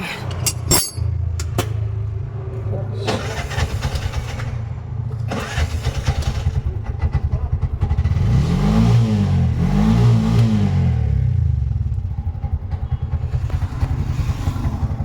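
A Bajaj BS6 CNG auto rickshaw engine cranks and catches with a sharp start, then idles with a steady throbbing putter, revving up and down a couple of times, close and loud.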